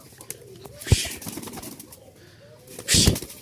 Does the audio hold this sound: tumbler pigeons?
yes